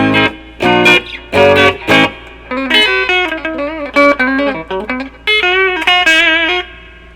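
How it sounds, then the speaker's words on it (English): Clean electric guitar, a Telecaster on its bridge pickup through a Monoprice Stage Right 15-watt all-tube 1x12 amplifier, plays a series of bright strummed chords and picked notes, sustained and ringing, with short pauses between phrases and no voices. "That is set up for a pretty clean sound."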